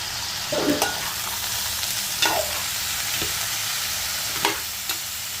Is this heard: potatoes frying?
yes